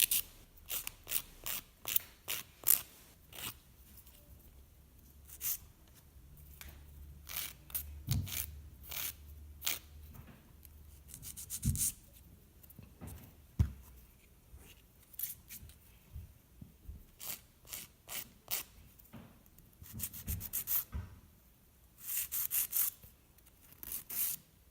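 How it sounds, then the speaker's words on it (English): Acrylic nails being buffed down by hand at home, heard as quick scratchy rubbing strokes in irregular bursts, close and fairly quiet with no talking. "just sitting and just buffing down some acrylic"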